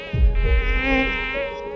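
Anopheles mosquito buzzing, a steady close-up whining drone with a harmonic hum, sustained throughout.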